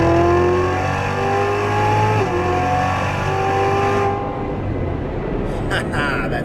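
A Corvette C7 Z06 engine and exhaust heard from inside the cabin, a loud steady drone with rising tonal harmonics that changes pitch partway, then a rougher broadband roar toward the end.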